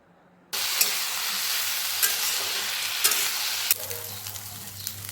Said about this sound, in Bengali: আর এরই মধ্যে আমি দিয়ে দিচ্ছি আগে থেকে গ্রেট করে রাখা আদা, নুন আর হলুদ। এবার আমি এই সব কিছুকে খুব ভালো মতন ভেজে নেব।